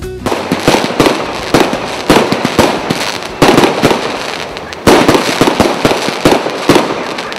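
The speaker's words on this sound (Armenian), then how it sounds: "իսկ երեկոյան հայերին բնորոշ ճոխ հրավառություն" Lavish evening fireworks at an Armenian wedding celebration in Armavir crackle and boom continuously, a loud, dense run of sharp bursts with several heavier booms standing out, with no voices.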